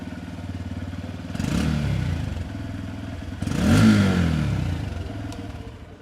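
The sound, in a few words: motorcycle with Japanese engine started, exhaust note revving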